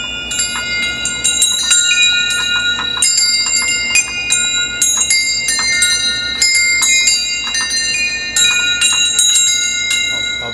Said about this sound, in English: When you actuate the bell from outside, it sends a radio signal to the bell inside and announces that you have company.